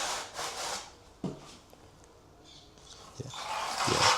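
A steel trowel scrapes across a skim-coated plaster wall in a few rough strokes with gaps between them, close by and fairly quiet.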